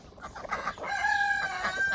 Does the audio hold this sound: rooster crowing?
yes